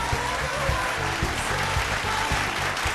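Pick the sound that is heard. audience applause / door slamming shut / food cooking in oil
audience applause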